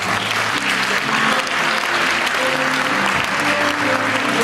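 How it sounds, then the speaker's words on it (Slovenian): An audience at a sports awards ceremony applauds loudly and continuously, with dense clapping filling the whole stretch close by. "En aplavz za Hajnča."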